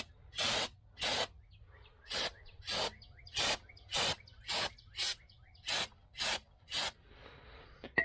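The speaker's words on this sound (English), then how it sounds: "spray all this down with some brake cleaner" Brake cleaner sprayed onto rear axle brake parts in short, regular hissing bursts, about a dozen evenly spaced squirts close to the microphone with quiet pauses between them.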